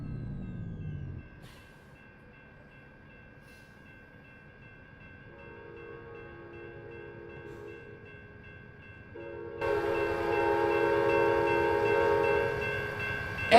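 An Amtrak train in American Truck Simulator sounds a sustained, loud multi-tone horn that swells and holds near the end, after quieter, steadier horn tones and low rumbling, with no talking.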